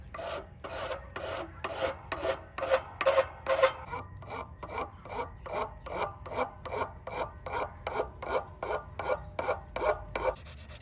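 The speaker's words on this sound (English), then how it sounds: "I'm just gonna go back with my Japanese Shinto and kind of round some stuff out here." A Japanese Shinto rasp rounds and shapes a wooden axe handle with a steady run of about twenty close, rhythmic rasping strokes, the early strokes heavier and the later ones lighter, with no talking.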